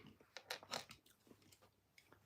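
Close, quiet crunching of ice as someone chews, a cluster of crisp bites early on, then softer scattered grinding that fades toward the end.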